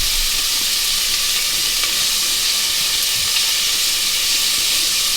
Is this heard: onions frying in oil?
yes